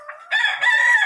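A sweater gamefowl rooster crows loudly and close by, one long strained call that rises after a brief softer start.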